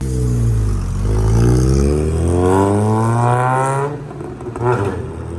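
A rusty old car revs hard as the clutch is dumped for a burnout attempt, a loud rising engine roar with climbing harmonics that cuts off abruptly, followed by a brief quieter burst.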